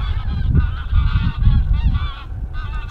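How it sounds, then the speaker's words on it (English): Several geese honk repeatedly and loudly nearby, overlapping calls in a steady noisy chorus with no pauses. "Spring's coming, the geese are coming back."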